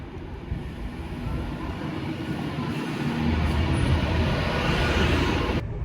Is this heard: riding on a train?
yes